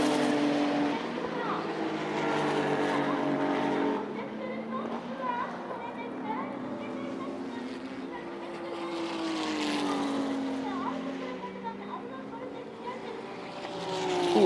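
Racing engines drone and rise in pitch as 1994 JGTC cars, including a Nissan Skyline, charge around the Sportsland Sugo track, a steady loud roar with gear changes, continuous throughout.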